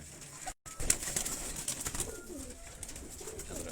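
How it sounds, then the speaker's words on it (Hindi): Khaki-headed pigeons of the Sialkot breeds coo softly at close range, a few low, throaty calls over a faint hiss of background noise, with a brief dropout near the start. "ये वो कबूतर हैं खाक सिरे"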